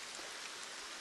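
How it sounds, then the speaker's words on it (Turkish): Heavy downpour in LEGO Fortnite, a dense, even hiss of rain falling steadily throughout a very short stretch with no other sounds. "Hava da yağmurlu, sağanak yağmur var."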